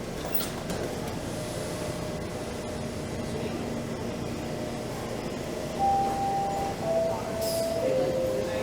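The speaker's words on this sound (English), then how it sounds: "As a westbound train rolls into the station." A westbound Toronto subway train rolls into a station between Yonge and Church: a steady, moderately loud rumble fills the platform, and rising electric motor whines appear near the end as the train arrives.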